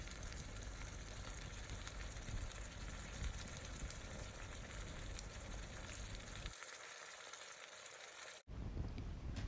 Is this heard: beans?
yes